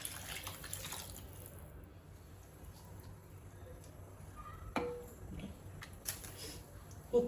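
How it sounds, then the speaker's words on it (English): Water poured into a pan of chicken pav bhaji with chopped tomatoes, chilli powder and turmeric, a steady low wash of liquid with a couple of brief clinks near the end, fairly faint and without talk. "Now add water."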